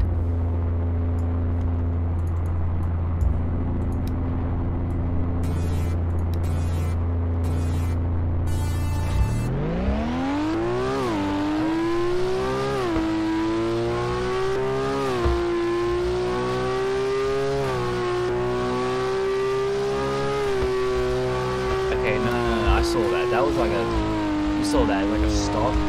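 A Nissan Skyline GT-R V-Spec II engine in the Car Dealership Tycoon video game idles with a low hum, then climbs into a sustained, loud revving drone that rises and holds steady through changing revs.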